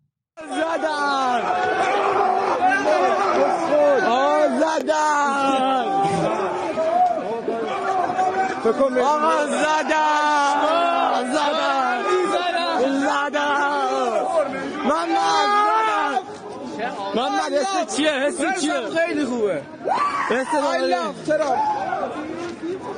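Crowd of Iranian students yelling and cheering together, a dense, continuous mass of overlapping raised voices with shouted phrases rising and falling for the whole stretch, loud and close.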